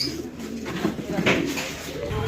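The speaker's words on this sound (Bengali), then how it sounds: "এখানে আরো এক জোড়া কবুতরের কালেকশন আছে আর এটা হচ্ছে আফসান গ্রিজেল কবুতরের একটা জোড়া" Afsan Grizzle pigeons coo softly in a low, murmuring stream at a pigeon sale, close by, with a person talking over the birds.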